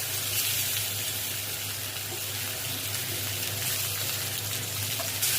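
Small marinated fish hit hot oil with browned chopped onion, producing a loud, steady sizzling hiss that continues evenly up close.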